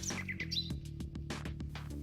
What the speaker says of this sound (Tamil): ஒவ்வொரு ஆண்டும் கன்னியாகுமரி மாவட்டத்திற்கு செப்டம்பர் மாதம் முதல் மார்ச் மாதம் வரை ஏராளமான வெளிநாட்டு பறவைகள் வருகின்றன.